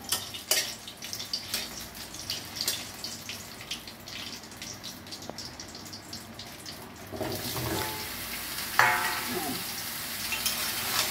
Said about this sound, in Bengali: এই যে আমাদের তেল গরম হয়ে গেছে, তেজপাতা শুকনো লঙ্কা দিয়ে দিলাম।